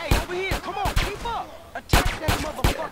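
Repeated loud gunshots come from a weapon in the video game GTA San Andreas. They come as sharp, irregular single blasts over about three seconds, mixed with game effects.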